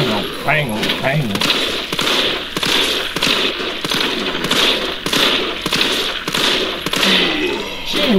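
Repeated gunshots from a gun in a first-person mod of the Resident Evil 3 video game fire in a steady rhythm of sharp cracks roughly every half second, with a voice talking at the start.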